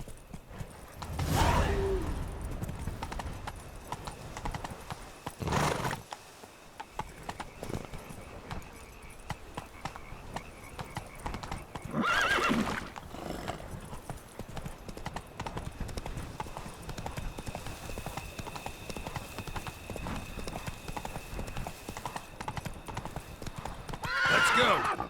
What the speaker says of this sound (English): His horse.